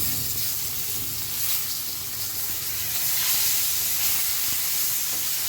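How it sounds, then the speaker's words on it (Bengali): Tilapia fish fry in hot oil in a pan at home, a steady close sizzle and hiss of oil that holds without a break. "মাছগুলো ভাজা হয়ে গেছে তুলে নেব"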